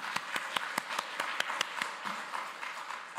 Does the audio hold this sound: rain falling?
no